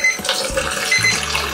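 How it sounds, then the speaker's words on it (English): Developer pours out of a film developing tank during black-and-white paper reversal processing, giving a short liquid gurgle and splash close to the microphone with a few faint tones in the background. "we can pour away the"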